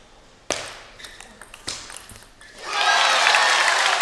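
Applause from the crowd at the US Open men's singles final, rising at about 2.7 seconds into steady, loud clapping after a few sharp pings and taps of play.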